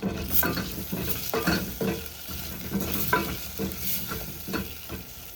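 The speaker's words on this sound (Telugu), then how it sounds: "సో నేను ఇన్ని వేస్తున్నాను. ఇది కొంచెం ఫ్రై అవ్వాలి." Whole sambar onions frying in a pot, with a steady sizzle under repeated stirring scrapes and light clinks of a utensil against the pot, close up and with no talking.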